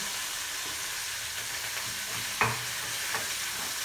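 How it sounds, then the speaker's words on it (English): Diced, quartered onions browning in a pan for beef casserole, a steady close sizzle and hiss with a few stirring scrapes and a sharp knock partway through. "I'll just brown the onions slightly"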